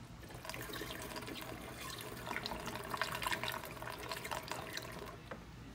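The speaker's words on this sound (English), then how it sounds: "Then take the pre-mixed coolant and then start pouring it down." Pre-mixed coolant poured into the coolant reservoir of a 2012-2014 Hyundai Genesis: a continuous close gurgling liquid stream that runs for several seconds, steady and alone.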